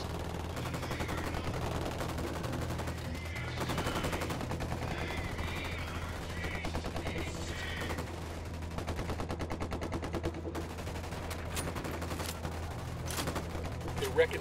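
Rapid bursts of automatic gunfire and scattered single shots fill a firefight in the video game Ghost Recon Wildlands, sustained and loud throughout, with voices talking now and then over the shooting.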